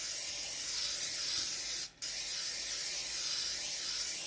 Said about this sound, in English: So I just use the canned canola oil spray